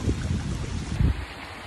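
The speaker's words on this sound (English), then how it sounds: "it's like really windy right now" Strong wind outdoors beside water where someone is bass fishing, a loud continuous rumbling buffet against the microphone with gusts surging at the start and again around one second, no voices.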